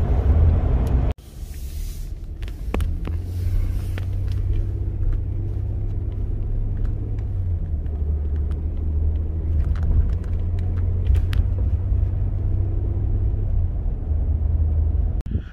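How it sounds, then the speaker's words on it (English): A vehicle on 37-inch Toyo Open Country AT3 tires drives over icy, snowy roads, giving a steady low cabin rumble and road hum throughout, with a sharp cut near the start and no talking. "as I'm driving around in some ice, I'm seeing other people slip"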